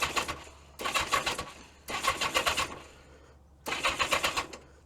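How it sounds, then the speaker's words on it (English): Yamaha XJ900F motorcycle engine cranked over without choke, three separate bursts of rhythmic starter-motor churning with rapid chugging compression pulses, each lasting about a second with short pauses between, fairly close. "I'll just give the bike a couple of turns over without choke at this point."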